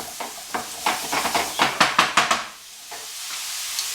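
Spices for curried beetroot are stirred in a pan with quick, close scraping strokes and a light sizzle, coming as a run of rhythmic bursts before going quiet.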